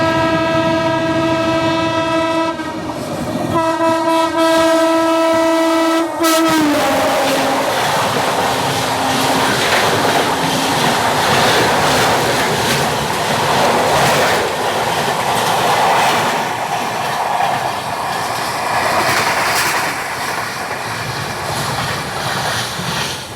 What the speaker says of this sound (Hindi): सामने से आ रही है शालीमार तिरुवनंतपुरम सेंट्रल एक्सप्रेस।